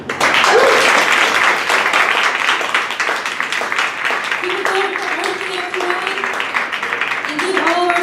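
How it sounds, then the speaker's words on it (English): An audience at a live storytelling night applauds, a dense burst of clapping that carries on and slowly thins, with voices and cheers rising through it. "give all of our storytellers tonight another round of applause"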